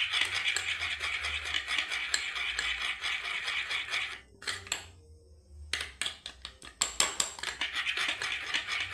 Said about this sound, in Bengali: মধুর সঙ্গে ভালোভাবে মিশিয়ে নেব এটা।